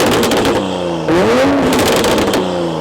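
BMW F30 with a burble exhaust tune, revving close by with a rising and falling engine note and a few crackling pops scattered through; no voices.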